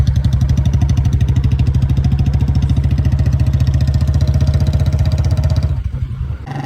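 A motorcycle engine runs loud and close during a ride, pulsing steadily, then eases off and drops lower near the end, with no talk.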